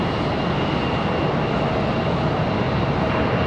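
Boeing 737 airliner from Norfolk at Charlotte airport, a steady, loud broadband jet roar that holds evenly throughout with no voices.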